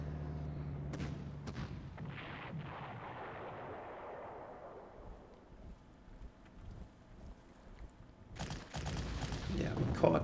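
Artillery fires in the Panzer Corps wargame: a cluster of booming blasts early on rolls into a long, fading rumble, then another burst of noise swells near the end.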